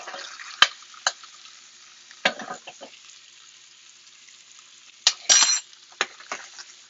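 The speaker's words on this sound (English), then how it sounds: "we want the lamb to get a little butter bathing" Lamb basted with butter in a hot pan beside vegetables: short bursts of sizzling and spoon clinks come in scattered, fairly close strokes with quiet gaps between them.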